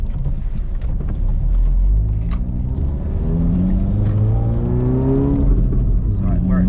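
A tuned 400+ bhp stage 2 Volkswagen Golf MK7 R on lowering springs revs hard and spins its wheels on a wet road, the engine note climbing steadily and loud, while people talk over it.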